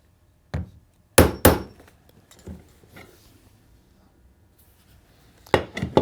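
A hammer strikes leather while a hand-sewn welt is formed on a custom cowboy boot, with sharp, isolated blows: one single hit, a quick pair, a few softer taps, then a closing cluster of rapid strikes.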